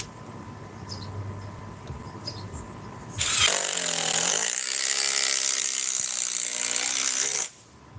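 A battery power tool drives small TimberLok screws, whining up sharply into one sustained high-pitched run of about four seconds after a quiet stretch, then stopping abruptly.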